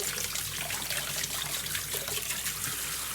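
Tap water running steadily over freshly harvested home-grown turmeric rhizomes in a kitchen sink, a continuous soft splashing trickle with no voices.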